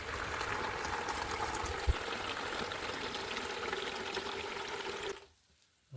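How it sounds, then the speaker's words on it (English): Water running into a bucket for washing gold-bearing material, a steady rushing, bubbling flow heard close for about five seconds before it is shut off, leaving near silence. "Let's get this bucket filled up with water."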